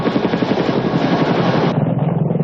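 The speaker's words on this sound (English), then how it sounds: "The CH-47 Chinook provides heavy lift capability and can even lift vehicles" A CH-47 Chinook heavy-lift helicopter roars loudly and steadily, its rotors beating in a rapid, even thump over a broad engine rush, with no voices present.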